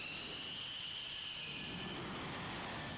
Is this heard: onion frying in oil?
no